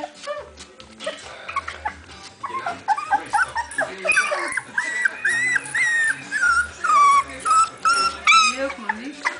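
Young border collie pups in a nest whimper and yip repeatedly, high thin cries rising and falling close by, with a person speaking softly in the background.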